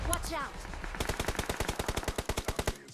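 Video game gunfire: after someone speaks briefly, a rapid burst of about a dozen sharp automatic shots rings out in a quick regular rhythm, loud and close.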